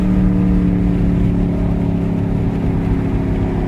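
Dodge Charger Scat Pack V8 engine revving up close, a steady loud low rumble held throughout with wind noise over it.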